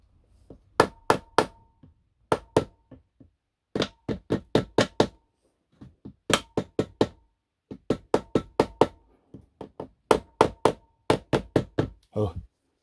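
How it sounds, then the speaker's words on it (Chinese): A rubber mallet taps a crankshaft oil seal into a scooter engine with close, sharp knocks that come in quick clusters of three to six, separated by short silences. "胶锤再伺候一下"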